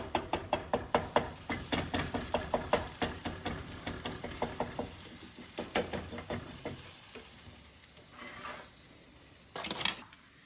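A spatula scrapes and taps steadily in a sizzling pan as eggs are scrambled, a quick regular clatter that slows and softens, ending with a couple of louder knocks against the pan.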